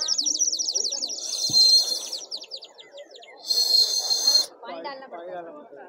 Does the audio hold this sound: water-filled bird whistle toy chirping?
yes